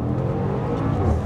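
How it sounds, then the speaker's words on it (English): A 2021 Bentley Bentayga V8 launches hard under launch control in sport mode, a loud, steady, gurgly engine roar building under full throttle, close and continuous with no talking. "when you nail the throttle, you do get some gurgly V8 noise"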